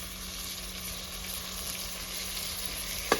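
Chopped tomatoes and green chillies fry in a pan for a homemade sev bhaji, making a continuous, even sizzling hiss close by with a faint clink at the very end and no voices.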